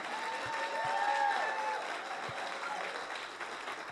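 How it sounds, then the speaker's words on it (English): Audience applause for a church leader at a congregational gathering, a steady wash of many hands clapping close and loud for about four seconds, with faint crowd murmur underneath. "let's give our visionary and iconic leader a round of applause"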